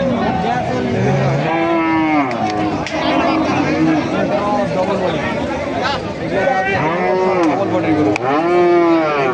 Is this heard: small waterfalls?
no